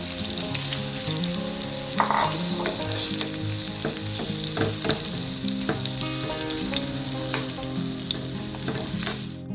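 Banana pieces fry in hot ghee on a medium flame for a Kerala banana and jaggery sweet, giving a steady close sizzle with occasional stirring clinks throughout.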